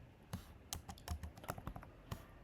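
Java code is typed on a computer keyboard in a rapid, uneven run of soft key taps, close up and quiet with no voices.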